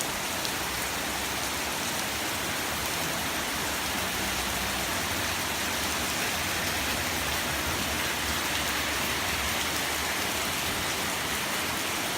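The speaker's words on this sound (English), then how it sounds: "Just figured I'd hop on here and show you all the rain. It's coming down good." Heavy rain pours steadily in a small town beside a highway, a dense, continuous hiss of drops drumming on surfaces close by, with no break or change for the whole stretch and no voices.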